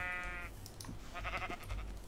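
Sheep in the Minecraft video game bleat in short wavering calls, two or three cries close by over a light background.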